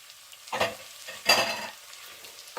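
Washed dried anchovies are stirred and sautéed in a pan, giving a few separate scraping, sizzling bursts from a spoon moving through them, close and moderately loud, with quiet gaps between strokes.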